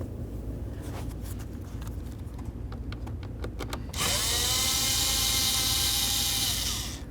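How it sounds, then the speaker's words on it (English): A power tool works on the blower motor mounting bolts of a 1992-2000 Chevy Tahoe: several short ratcheting bursts and clicks, then a loud sustained whirring spin that winds down, all close by. "The next thing we want to do is remove our 5 mounting bolts."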